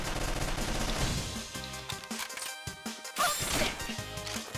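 Rapid machine gun fire in the pixel-art video game Mercenary Kings, a dense rattling stream of shots and impacts over chiptune-style game music, with no talking.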